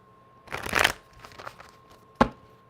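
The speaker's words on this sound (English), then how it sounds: "Let me get a quick shuffle." A short riffle of playing cards being shuffled, followed by a few soft handling sounds and a single sharp tap of the deck.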